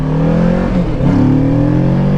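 A Kawasaki Ninja 650 motorcycle with standard exhaust and catalytic converter revs close by, a loud, steady engine drone that dips briefly and then rises in pitch as the throttle opens.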